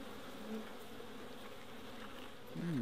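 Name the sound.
honey bees buzzing at an opened hive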